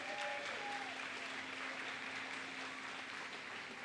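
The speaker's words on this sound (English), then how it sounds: "How about a big round of applause for everybody?" An audience at a glass art conference claps steadily for a glassblowing demonstration team, a dense, even wash of applause heard from a little distance, with faint murmurs beneath.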